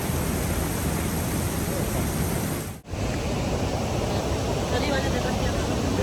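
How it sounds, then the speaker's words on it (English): Iguazú Falls waterfall rumbles as a steady, dense broadband roar, unbroken apart from a brief dip midway, with no talk over it. "you can see the mist from the waterfall coming up. You can probably hear it"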